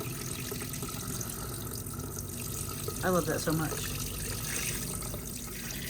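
Waterfall sprayer faucet in the kitchen of a 2025 Forest River Salem Grand Villa 42View RV runs as a steady spray of water under a quiet background, while a brief voice speaks partway through.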